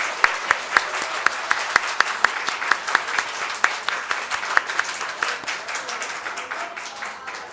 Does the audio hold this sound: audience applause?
yes